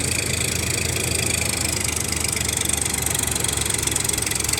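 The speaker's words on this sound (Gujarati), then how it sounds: "અહીંયા ટ્રેક્ટરનું પરફોર્મન્સ તમે જોઈ શકો છો ટ્રેક્ટર કેટલા આરપીએમ ઉપર ચાલે છે" A Farmtrac 42 Champion tractor engine idles close by with a steady low rumble and rhythmic knocking throughout, no voices.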